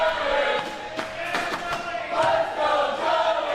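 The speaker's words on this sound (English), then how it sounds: "There's a few yelling for Connor in there." A crowd at an air hockey singles tournament final yells and cheers for a player, a steady wash of mixed voices with a few louder shouts rising near the end.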